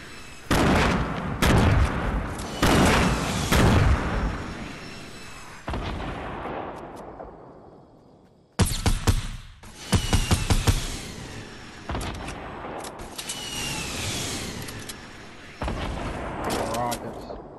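Rocket blasts and gunfire in Fortnite gameplay, a run of loud booming bursts in clusters with dense crackling, pausing briefly midway before more heavy explosions follow.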